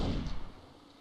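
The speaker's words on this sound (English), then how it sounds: "Clarity does take out Gummy in the exchange of gunfire" A brief burst of gunfire in the AVA video game opens with a loud boom that quickly fades, followed by a few fainter shots trailing off.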